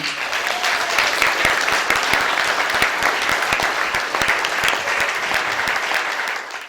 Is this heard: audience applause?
yes